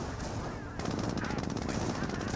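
Gunfire in the World War II strategy game Company of Heroes, a rapid rattling burst of automatic fire that grows denser partway through, under faint background noise.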